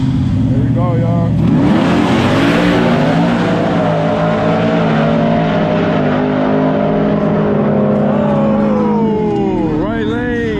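Full-size trucks drag race at a track, engines roaring loudly as they launch and accelerate hard past, the pitch climbing through gear changes before fading, with a voice talking over the noise.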